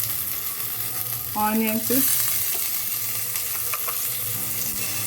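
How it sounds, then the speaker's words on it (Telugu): Chillies, curry leaves, onions and garlic shallow fry in two spoons of oil, giving a steady loud sizzle throughout with stirring noises, while someone speaks briefly over it. "వెల్లుల్లి ఇవన్నీ ఇప్పుడు ఫ్రై అయ్యే వరకు కలుపుకుందాం"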